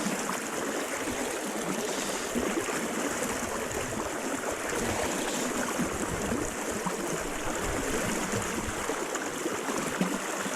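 Fast river current running in high water, a steady, dense rush and hiss of flowing water close by, continuous and unbroken with no voices.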